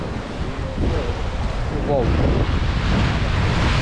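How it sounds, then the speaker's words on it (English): Sea waves wash and rumble near the shore in Monastir, Tunisia, with heavy wind buffeting the microphone and a voice briefly exclaiming over the steady surf. "Let me show you the sea waves."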